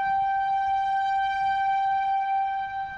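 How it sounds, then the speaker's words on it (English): A loud, steady tornado siren wail with sustained tones holding for the whole stretch, close by and continuous, over a low rumbling background. "we got one of the tornado sirens right over"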